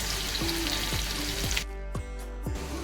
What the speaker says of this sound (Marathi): तव्यात तेल टाकलेलं आहे त्यामध्ये आता थोडासा लसूण